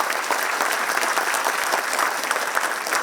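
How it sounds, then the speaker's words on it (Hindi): Steady, dense applause from an audience at a World Cancer Day event in Mumbai, a continuous crackle of many hands clapping together without pause throughout. "एक बार फिर से इनके लिए जोरदार तालियां बजा दें"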